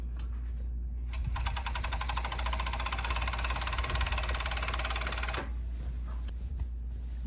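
A serger sewing machine stitches fabric panels together for drapery. Its rapid, even mechanical chatter runs steadily for several seconds, then stops and leaves a low hum.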